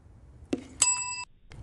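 A small bell is struck once, giving a bright, clear ring that sustains briefly before being cut off, preceded by a soft thump and heard alone at close range.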